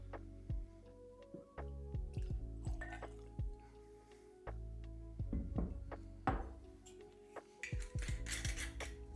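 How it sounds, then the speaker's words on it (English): Water is added a little at a time to a glass of Dewar's Caribbean Smooth blended Scotch whisky, giving soft close drips and small liquid clinks in irregular bursts against a quiet room. "let's add a little bit of water, see what changes up."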